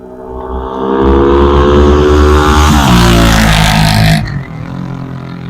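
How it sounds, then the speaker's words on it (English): A Ducati motorcycle roars past close by on a street, loud and rising in pitch with a shift midway, then cuts off sharply, leaving a lower hum of car traffic. "Sorry for all the auto and motorcycle noise."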